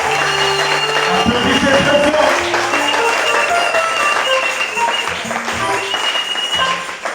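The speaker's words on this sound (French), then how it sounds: "Applaudissez très fort." A church congregation applauds loudly and continuously while sustained musical tones carry on underneath, the clapping dense and close throughout with voices mixed into the crowd sound.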